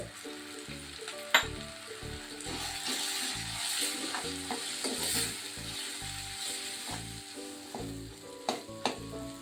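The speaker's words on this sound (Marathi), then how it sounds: "टोमॅटो सुद्धा आपल्याला छान परतून घ्यायचा आहे" Tomato frying with asafoetida in a pan, a steady close sizzle broken by scattered clinks and scrapes of a spoon against the metal, with no voices.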